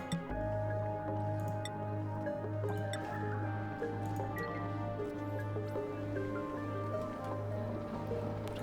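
Water being added in the video game Oxygen Not Included, heard as a steady series of soft drips and squishy liquid sounds over a continuous low, pulsing background tone.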